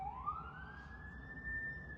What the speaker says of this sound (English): One thing that I noticed in Toronto is that there's so many police sirens, it's crazy.